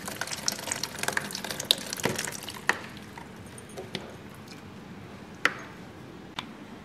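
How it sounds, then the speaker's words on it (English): Water overflows from the filled tank of a body contouring machine: a gentle gurgling trickle with occasional drips and small splashes, close and fairly quiet. "We see that the water coming out from the overflow hole. That means the water tank is fulfilled."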